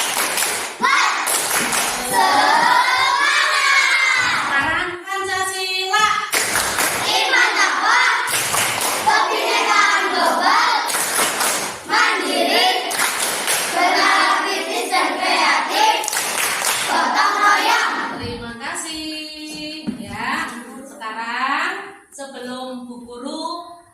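A class of Indonesian schoolchildren chants loudly in unison and claps a rhythmic spirit clap, with bursts of sharp hand claps between the shouted syllables and a teacher's voice leading.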